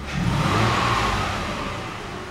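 A Toyota Harrier MCU30 engine with a newly replaced throttle body, revved once in a quick rise that holds and slowly eases back, loud and close with no voices.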